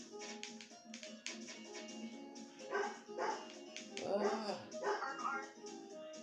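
A pet dog barks and yips in a few bursts in the background of a room, mixed with game sounds and music during an Undertale session, with a voice nearby.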